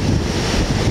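Surf stirred up by Typhoon 13 rolls onto Sendai Shinko beach, a loud, steady roar of crashing water mixed with gusting wind on the microphone, with no voices in this short stretch.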